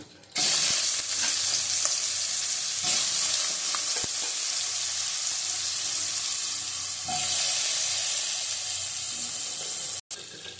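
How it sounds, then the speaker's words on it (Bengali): Potatoes for a raw jackfruit and prawn dish frying in hot oil in a wok, a dense, steady sizzle heard up close for the whole stretch, with a brief dip near the end and no talking. "আলু ভেজে নেবো, ইঁচড়ের আলুগুলো ভেজে নেবো।"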